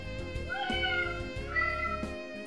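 A cat meows twice in rising, drawn-out calls, each clear and close, over a steady musical background.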